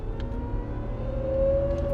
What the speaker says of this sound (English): For some reason, we need to accelerate.